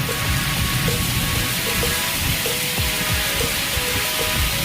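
Heavy rain pours onto a road during a thunderstorm, a dense, steady hiss of drops and splatter heard close and loud, with no talking.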